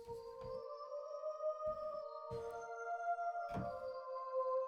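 Two layered synth waves in combi mode blend into a breathy, vocal-like sustained pad, a held chord ringing steadily throughout with faint low key thumps scattered underneath.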